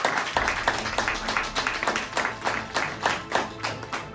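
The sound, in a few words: loud audience applause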